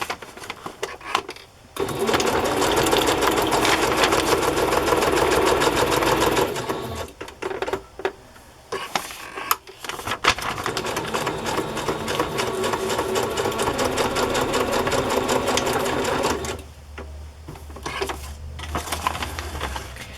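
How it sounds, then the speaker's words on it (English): A sewing machine stitches a printed cardstock house onto a journal as a tuck spot, running in long rapid rattling bursts separated by brief pauses, close and clear. "I'm just going to sew that on all by itself as a little tuck spot."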